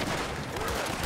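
Gunfire during a shootout in the video game Red Dead Redemption 2, a short, loud, dense burst of overlapping shots filling the moment.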